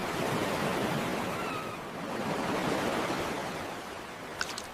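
Ocean waves wash onto a beach in a steady, broad rushing hiss with gentle swells in loudness, alone and moderately quiet, with a faint brief click near the end.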